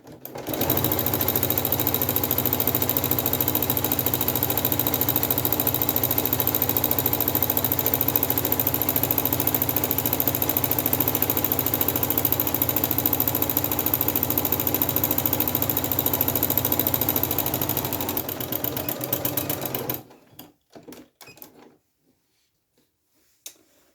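A sewing machine stitches a PU faux leather bag strap in a steady, close, rapid mechanical whir that runs for about twenty seconds, then stops and leaves a few faint clicks.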